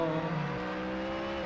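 GT3 race car engine during an endurance race, a moderately loud sustained engine drone holding a steady pitch, dropping slightly after the opening moment, with no voices.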